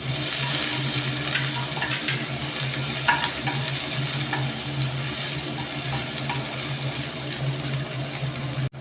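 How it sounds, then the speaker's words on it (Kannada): Onions fry in oil for hotel-style sambar, a steady dense sizzle with scraping stirs over it, loud and close and continuing without pause until a sudden cut at the end. "ಒಂದೊಂದು ಈರುಳ್ಳಿ ನಾನಿಲ್ಲಿ ಫ್ರೈ ಮಾಡ್ಕೊಳ್ತೀನಿ"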